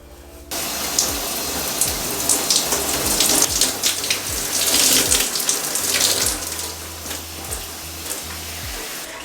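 Water runs steadily from a tap over curly hair during a wash, a loud continuous splashing rush that starts abruptly and keeps up with uneven spattering and dripping, and no one speaks.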